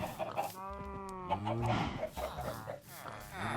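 Minecraft chickens cluck and squawk in a busy, layered chorus, with a rooster-like call rising briefly in the middle; the sounds have a synthetic, game-like quality.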